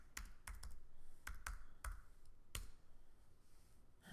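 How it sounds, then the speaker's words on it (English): Rapid typing on a computer keyboard, close and fairly quiet, with irregular bursts of sharp clicks over a steady low room hum. "So if I were to just type in gallery"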